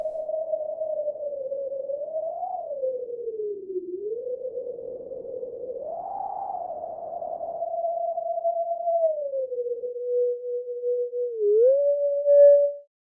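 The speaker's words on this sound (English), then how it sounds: "you can make sounds like this, almost sounds like wind going through a tunnel" Resonant filtered noise from a u-he Diva synth whistles like wind moving through a tunnel, a wavering tone that bends up and down for several seconds with a faint breathy hiss beneath and no voices.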